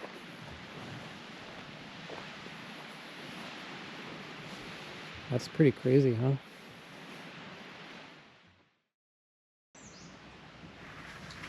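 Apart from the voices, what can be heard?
Lake Superior waves at a lakeside campground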